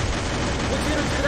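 Gunfire in a four-versus-four online shooter match, a brief, dense rattle of shots under players' excited talk, rumbling and continuous for just over a second.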